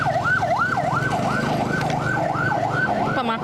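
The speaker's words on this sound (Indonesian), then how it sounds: "ambulans masuk ke kompleks rumah sakit" An ambulance siren wails in a steady rising-and-falling cycle as the ambulance enters the Caritas Hospital complex in Palembang, loud and close over engine rumble and background noise.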